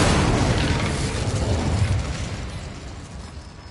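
A fire spell cast in a Harry Potter video game bursts out as a loud, dense whoosh with a low rumble, holding steady for about two seconds before tapering off. No voice is heard.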